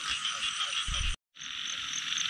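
Large frogs croak at night in a dense, loud chorus of rhythmic calls that cuts out for a moment, then resumes.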